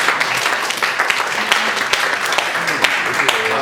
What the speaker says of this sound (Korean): 우리 힘찬 박수 한번 보내주시고